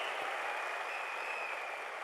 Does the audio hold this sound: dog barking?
no